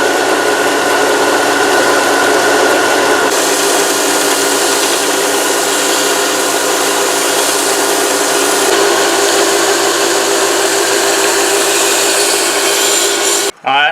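A Bowie knife blade is rough ground on a power grinder, a loud steady abrasive whine and rasp that runs almost without a break, shifting tone partway through and cutting off abruptly at the end.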